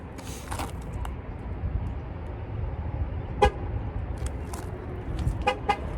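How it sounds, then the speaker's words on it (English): A vehicle horn gives a few short, distinct beeps over a low idling engine hum, one beep per tire during a tire pressure sensor relearn, spaced apart, fairly close. "So there's one beep for each tire."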